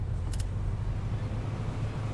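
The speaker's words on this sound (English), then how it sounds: "fire up the engines" Boat engines in the game Fishing: North Atlantic settle into a low steady rumble after a brief click near the start, droning on evenly and fairly close with no talk.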